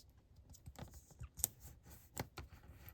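Paper for a papercraft project is creased and folded by hand at close range, making brief crinkles and sharp taps over about three seconds, with no voices.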